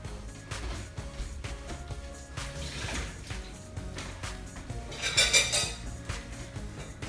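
Dishes and a container clink and rattle in a home kitchen as Brussels sprouts are tipped in and tossed with lemon and maple syrup. The handling is steady and close, with a louder splashy rustle near the end.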